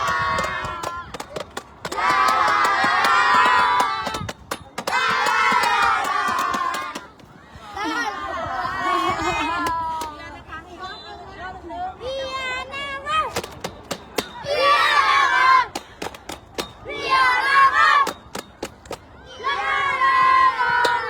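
Small children in a youth cheering squad shout and chant in loud bursts from the sideline of a U12 football match, with pauses between group cheers and crowd chatter around them.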